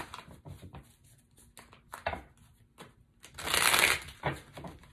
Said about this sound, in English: I'm going to go ahead and shuffle this up real good